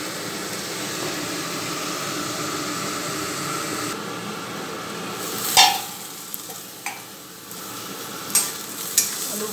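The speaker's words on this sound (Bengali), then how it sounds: "আলুগুলো ভাজা ভাজা হয়ে আসছে" Potatoes frying in a pan, a steady hiss of sizzling oil with a few sharp utensil clinks and scrapes toward the end, no voices.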